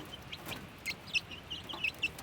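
Chicks in a brooder give short, high peeping calls, several scattered chirps at irregular intervals, fairly faint over a quiet background.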